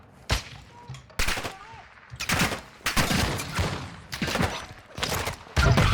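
Bursts of Call of Duty: Warzone DMZ gunfire, several rapid volleys and single loud shots, with brief quieter gaps and faint talk between them.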